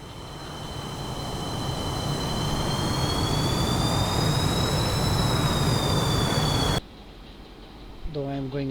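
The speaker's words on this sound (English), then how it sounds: "Let's throttle up and move this aircraft down the runway." A JF-17 Thunder Block II fighter jet throttles up on the runway with a loud, steady jet whine and rumble whose pitch bends slowly, then cuts abruptly near the end, leaving a quieter hum.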